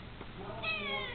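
A three-legged cat named Bob meows once, a rising, drawn-out call heard close and clear.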